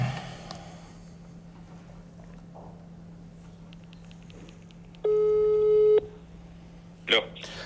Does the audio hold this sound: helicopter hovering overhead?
no